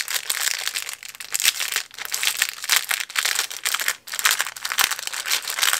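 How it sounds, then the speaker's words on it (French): Plastic packaging of scrapbooking supplies crinkles and crackles in irregular bursts as it is opened close by, loud and busy with brief pauses and no talking. "ça va faire du bruit quand je vais ouvrir"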